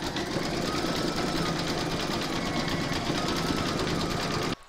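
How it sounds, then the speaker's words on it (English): Embroidery machine stitching an in-the-hoop sloth applique, a rapid, regular needle clatter with a steady motor hum, close and continuous for several seconds before cutting off abruptly. "Load whatever colour you want for the heart that's going to go here into your machine, and then stitch round number five"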